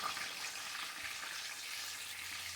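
Chicken fries in a pan, giving a steady, soft, dense crackling sizzle throughout.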